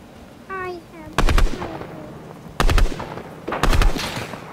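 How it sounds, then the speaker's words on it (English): Sharp sniper rifle shots crack in a video game, three loud bursts spaced over a few seconds, each with a brief echoing tail, alongside softer game sounds. "He's sniping at me."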